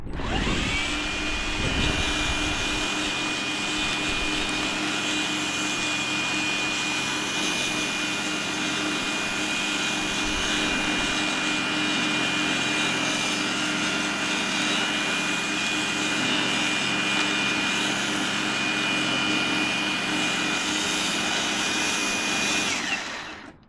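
An EGO ASB1400 battery-powered scarifier dethatches a small lawn section on a 2.5 Ah battery, its motor droning loud and steady for over twenty seconds with a constant high whine and scraping rustle beneath, then cutting off at the end.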